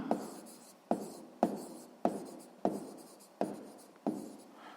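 Chalk strokes on a board while math is written out, seven sharp taps each trailing into a short scraping stroke at a steady rhythm, close and clear with no voices.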